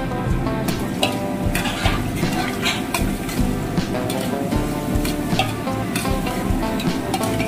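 Chopped onion and diced green chilli sautéing in a pan for hotel-style chilli chicken gravy, a steady close sizzle with scattered stirring clicks and scrapes, continuous and even throughout.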